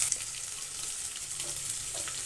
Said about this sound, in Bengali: আদাটাকে রসুনের সঙ্গে ভালো করে ভেজে নিতে হবে।